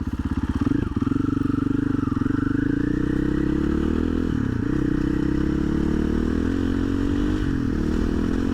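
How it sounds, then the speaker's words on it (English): A motorcycle fitted with an Athena GET SX1 ECU on map 2 rips up through the gears, loud and close, its engine pitch climbing and dropping at each shift over a scraping, clattering undertone. "I'm gonna go ahead and rip through the gears and see how we perform."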